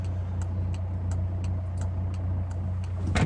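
A 2005 Volkswagen Jetta Wagon TDI hums along with a steady low drone from inside the cabin. A regular ticking clicks evenly throughout, like a turn signal, and a brief louder rustle comes at the end.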